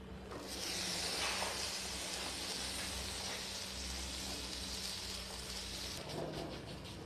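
Rice roti, chawal ki roti, cooks in butter on a hot tawa, giving a steady, even sizzling hiss that runs throughout with no talk.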